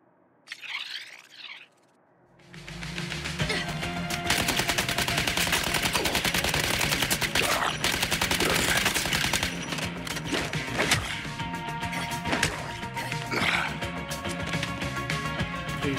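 Gunfire from shooting enemies in Suicide Squad: Kill the Justice League, a dense rattle of rapid automatic shots that runs almost continuously after a brief quiet start, loud and close.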